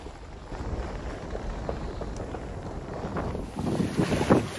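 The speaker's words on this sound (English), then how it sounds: "Look and listen to those waves." Wind buffets the microphone aboard a sailboat out on Atlantic blue water while waves wash steadily against the hull, a continuous moderate rush with no voices.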